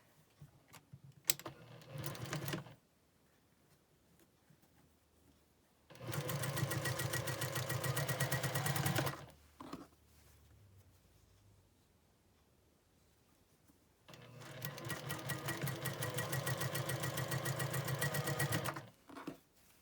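A sewing machine stitches quilt block pieces for a Churn Dash block in two long, steady runs of rapid mechanical whirring, separated by quiet pauses with faint handling clicks.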